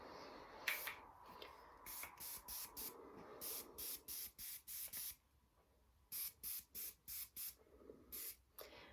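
A spray can is sprayed in short repeated bursts, first a few irregular blasts and then a rapid run of about a dozen evenly spaced hisses, close and crisp with quiet gaps between.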